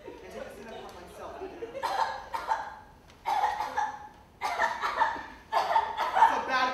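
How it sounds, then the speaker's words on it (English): Several bursts of coughing from a performer in a stage production of Tartuffe, spread over a few seconds with short pauses between fits, close and fairly loud amid a theatrical setting. "That's a bad cough."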